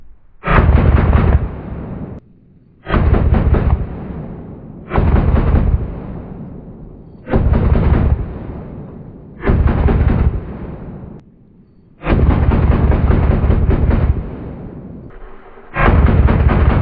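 Full-automatic gunfire rips into a TV and a dishwasher in loud, close bursts, six long strings of rapid shots separated by short pauses, with no talking.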